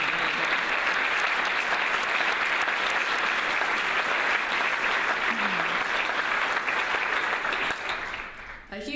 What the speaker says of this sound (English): Let's just give a little applause for that.